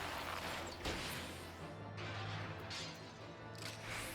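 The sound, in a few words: hitting a striking dummy in Final Fantasy XIV video game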